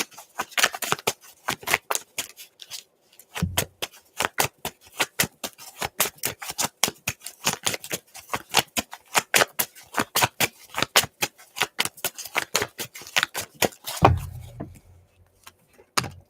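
Tarot cards are shuffled and drawn in quick runs of crisp, papery flicks and snaps, close and brisk, broken by a few brief pauses and a soft thump near the end.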